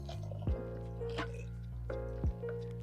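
About three cups of water poured onto pre-washed quinoa in a kitchen: soft splashing and dripping with a couple of heavier plops, close by over a steady low appliance hum.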